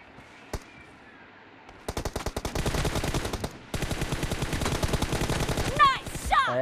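Gunfire in a mobile shooting game played on a Honor Play or Realme 6 phone: after a lone shot, rapid automatic bursts rattle out in two long sustained volleys, loud and close, ending with bright ricochet-like whines.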